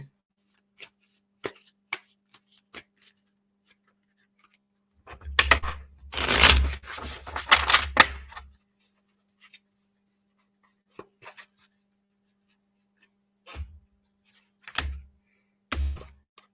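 Tarot cards being shuffled by hand, a soft papery riffle and flutter lasting a few seconds, surrounded by scattered quiet taps and card handling noises in a quiet room.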